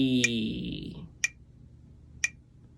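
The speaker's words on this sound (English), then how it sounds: "some metronomes have a setting where you can have eighth notes being played for the click" Metronome giving sharp, evenly spaced clicks about a second apart, three in all, the first partly covered by a fading sustained tone, then alone in near silence.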